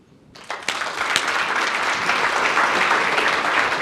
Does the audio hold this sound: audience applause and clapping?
yes